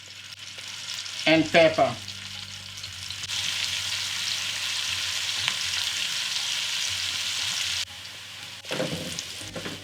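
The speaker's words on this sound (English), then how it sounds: "Into the oil goes in our onions." Sliced onion, one large onion, frying in about half a cup of vegetable oil for chicken biryani: a steady, bright sizzle holds for several seconds, with brief speech before and after it.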